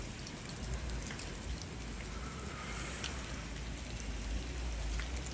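Continuous light rain falling, a dense even hiss with a low rumbling undertone, no talking present.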